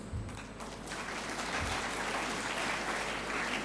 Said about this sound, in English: deserves a big round of applause